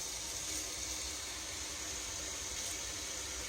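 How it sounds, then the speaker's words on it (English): Continuous hiss of water pouring from close by into a pot of muscadine husks, a steady even stream with no talking over it. "Put you some water in there"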